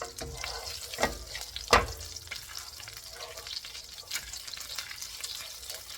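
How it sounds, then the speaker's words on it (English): Butter and grease sizzling in a hot skillet on medium heat, a steady close crackle with a few sharper pops and spits, heard alone. "butter and grease is hot, the skillet is hot"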